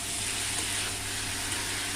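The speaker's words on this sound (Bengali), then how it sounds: "এই অবস্থাতেই 3 থেকে 4 মিনিট নেড়ে চেড়ে কষিয়ে নেব সমস্ত কিছুকে।" Potato and pointed gourd frying with spices in a pan over a high gas flame, giving a steady, close, even sizzle with no talk.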